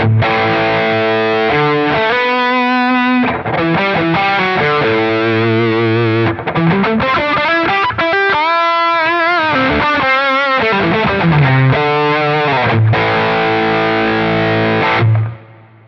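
A heavily overdriven electric guitar, played through a Kraken overdrive on a Quad Cortex, plays chords and riffs continuously, thick and loud, ringing out before cutting off at the end.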